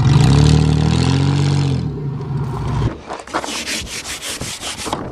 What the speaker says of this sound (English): A little tractor massage on the bumper now